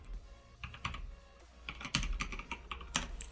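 Quiet clicking keystrokes on a computer keyboard come in an irregular burst as a console command is typed, with a few louder taps near the end and no talking.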